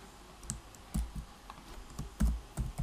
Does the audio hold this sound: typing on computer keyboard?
yes